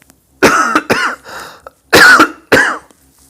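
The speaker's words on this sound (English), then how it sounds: "I don't know why I'm coughing so much." A man coughs in a sharp, harsh burst, three loud close coughs grouped together, a pause, then two more, alone with no talk.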